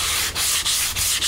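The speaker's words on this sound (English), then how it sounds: "The other method is simply to take a sanding block" A sanding block rubs back and forth across foam board in four quick, even strokes, each a loud, close, rasping swipe.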